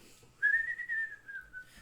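Single tuneful whistled line, like a Snow White-inspired power in a game, a sustained rising-then-falling tone lasting about a second over faint background hum, with no voices.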